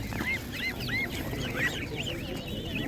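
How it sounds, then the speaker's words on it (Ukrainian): Geese at an animal market honk repeatedly in quick, overlapping calls close by, with a murmur of background noise underneath. "А гуси по чому?"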